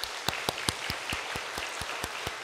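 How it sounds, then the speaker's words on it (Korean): A church congregation at a Sunday morning service claps in a steady, evenly spaced rhythm, about ten distinct claps heard somewhat distant over a hissy room background. "우리 크게 격려의 박수 보내겠습니다"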